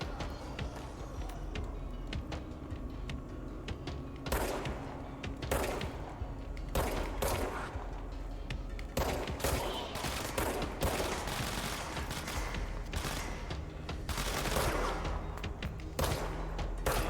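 Gunfire from the video game Control: bursts of shots and rapid volleys at irregular intervals, some sharp and close, over a low rumbling background with occasional thuds.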